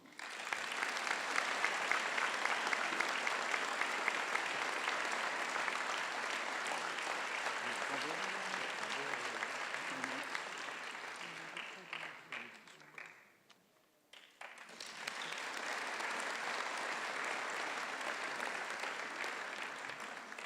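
Audience applause at a municipal New Year's greetings ceremony in Valognes honouring a new honorary citizen, a dense sustained clapping that dips briefly near the end, then swells back to full strength, with faint voices underneath.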